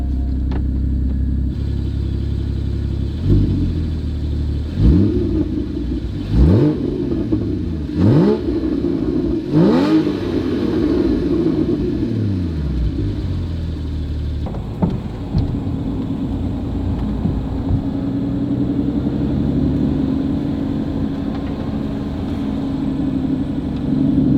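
A Porsche GT4 engine idles with a deep exhaust rumble, then revs sharply several times in succession before dropping back to a burbling idle.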